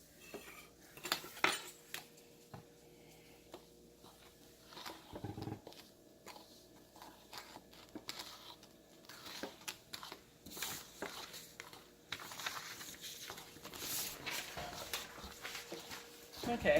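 A utensil stirring flour and baking powder together in a bowl gives intermittent clinks and scrapes at varying loudness, with a voice speaking over part of it.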